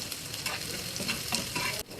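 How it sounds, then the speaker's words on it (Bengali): About half a cup of chopped onion fries lightly in a pan, with a loud, close sizzle broken by scraping stirring strokes. "এখানে আমি পেঁয়াজ কুচি নিয়ে নিলাম হাফ কাপ মতো একটু হালকাভাবে ভেজে নিচ্ছি"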